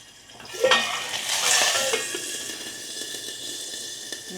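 Curry leaves hitting hot oil burst into a loud crackling sizzle that swells, then settles into a steady fry, with faint utensil clinks and no talking.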